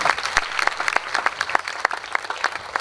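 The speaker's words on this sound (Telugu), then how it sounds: "ఒక్కసారి గట్టిగా చప్పట్లు పెడదాం దేవుని నామానికి." A church congregation at a Tabernacles festival claps hard in praise, loud applause with distinct individual claps standing out in an uneven rhythm.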